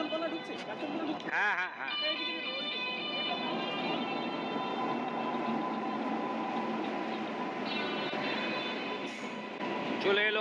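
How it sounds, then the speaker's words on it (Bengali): The 13150 Kanchankanya Express from Alipurduar to Sealdah rolls into a station with a loud, continuous rumble, wheel squeal and brief tonal screeches, while people talk on the platform throughout. "চলে এলো আমার ট্রেন 13150 আলিপুরদুয়ার শিয়ালদা কাঞ্চনকন্যা এক্সপ্রেস।"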